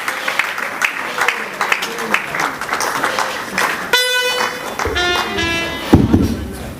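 A church conference crowd cheers and claps to welcome pastors, with clapping and voices at first, then sustained horn or trumpet-like tones blaring over the acclamation in the second half.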